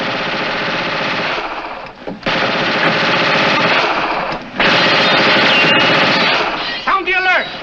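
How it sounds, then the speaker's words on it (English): Sustained bursts of machine-gun fire rattle loudly and densely for several seconds, pausing briefly twice before resuming, in a 1950 Foreign Legion desert battle scene; a faint voice comes in near the end. "investigate that gunfire"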